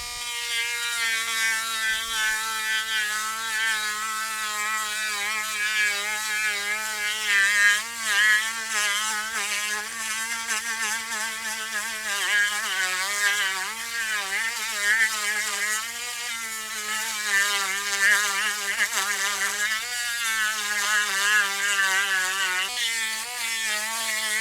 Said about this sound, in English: So I'm going to take the Dremel.